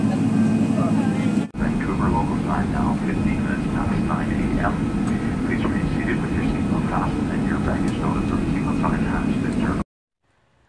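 Inside an airplane cabin in flight to Vancouver, a loud steady engine roar fills the space while a voice makes a muffled announcement over it, before the sound cuts off abruptly near the end.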